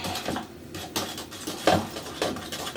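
Hair bleach and developer are stirred in a bowl, giving soft scraping and light clacking strokes at an irregular pace, close and moderately loud, with no voices.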